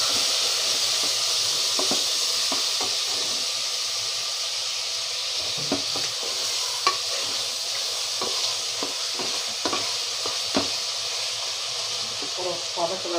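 A chicken green gravy masala with ground coriander powder is stirred and sautéed in a pan, with a steady steamy sizzle and scattered spoon scrapes and clinks close by.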